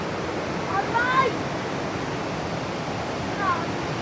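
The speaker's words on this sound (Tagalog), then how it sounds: "Grabe yung ilog, malakas." A river swollen by typhoon rain rushes loudly and continuously outdoors, a dense roar of water filling the whole clip, with brief faint voice fragments barely rising above it.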